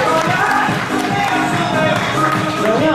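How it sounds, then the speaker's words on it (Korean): Guests at a first birthday party applaud together on cue, a dense, steady burst of clapping with some crowd noise that fills the whole moment at close range. "하나 둘 셋 박수 한번 주세요"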